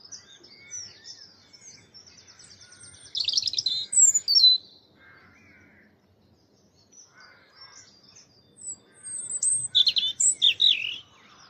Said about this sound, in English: Oh, robin singing away up there